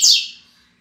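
A male double-collared seedeater (coleiro) lets out a single short, bright, high chirp that fades quickly, heard close and alone.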